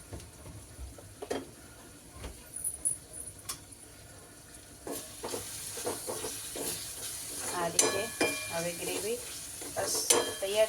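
Two whole chillies sizzling in hot tempering oil for a pasta dish: a continuous crackling fry that grows busier toward the end, with intermittent scrapes and taps of a spoon in the pan.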